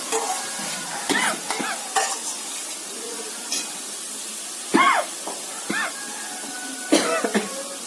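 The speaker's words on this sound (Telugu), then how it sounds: "ఈ ఉడకబెట్టుకున్నటువంటి అట్టితోటి ముక్కలన్నీ ఈ చింతపండు తాలింపు కలిపిన ఈ కళాయిలో వేసుకున్నాం" Boiled banana stem pieces are stirred into a tamarind tempering in a kadai, giving scattered scraping stir strokes over a soft steady sizzle, with a few brief close clatters and a cough-like burst.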